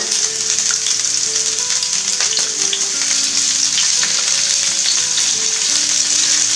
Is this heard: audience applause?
no